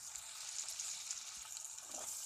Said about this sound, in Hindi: और अब हम इसे भून लेंगे जिससे बेसन का कच्चापन थोड़ा सा ख़त्म हो जाए।